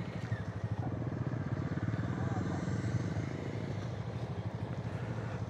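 A motorcycle engine running steadily while riding along a road, a continuous throbbing rumble close by, with a rider talking over it.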